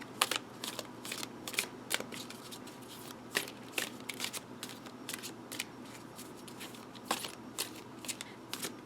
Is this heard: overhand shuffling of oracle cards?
yes